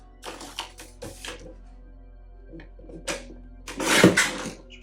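Craft material being cut freehand with scissors, giving a run of short, crisp snipping and tapping bursts that come in uneven clusters, close to the microphone at moderate volume, with brief quiet gaps between cuts.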